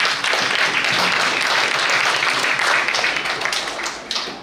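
An audience claps for people being recognised at a speech event, producing a dense, loud, continuous burst of many hands that holds steady for several seconds before thinning out near the end.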